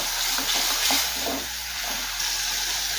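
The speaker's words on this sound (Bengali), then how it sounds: "কিছুক্ষণ সময় নিয়ে মশলাটা একটু নেড়ে ফেলে নেব" Spice paste of cumin, coriander and dried chilli, mixed in water, stirred and fried in a pan for a Bengali vegetarian curry. A close, steady sizzle with scraping stirs runs throughout, with no voices.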